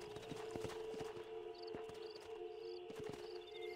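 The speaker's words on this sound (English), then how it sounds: "My horse is coming along." A horse trots closer in the video game Red Dead Redemption, steady clip-clop hoofbeats over a continuous ambient game backdrop with faint tonal calls, moderately distant and quiet.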